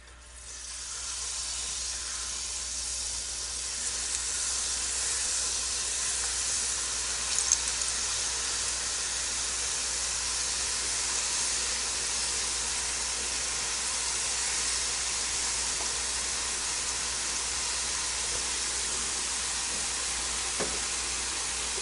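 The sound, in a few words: jalebi batter frying in hot oil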